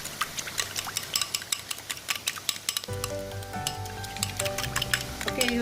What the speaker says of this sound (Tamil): பாருங்கள், நல்லா பொரிஞ்சு வருது.